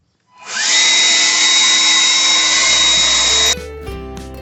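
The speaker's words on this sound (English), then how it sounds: "I'm gonna just blast all the water out with my leaf blower." A leaf blower roars steadily at close range while blasting water off a small roof, holding a loud, even whine for about three seconds before cutting off abruptly, followed by a few faint knocks and clatters.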